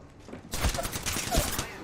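Rapid gunfire from an Apex Legends match erupts as a dense, loud burst of overlapping shots with a couple of heavier thumps, continuing steadily to the end.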